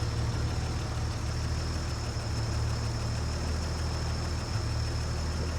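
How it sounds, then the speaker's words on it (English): A 1954 Chevy 3100 pickup with a 235 cubic inch inline-six engine idles steadily, a continuous low rumble with no breaks and no talk. "they went to the 235 cubic inch. Very good engines. Sounds really good."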